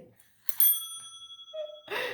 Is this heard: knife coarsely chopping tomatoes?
no